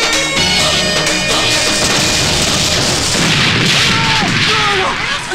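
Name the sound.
firecrackers bursting at the house opposite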